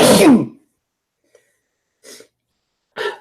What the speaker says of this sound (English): Watch out, I'm gonna sneeze.